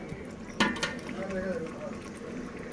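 Chicken being stirred for homemade biryani in a big cooking pot: a couple of sharp metal scrapes and clinks over a soft bubbling sizzle, with a voice talking.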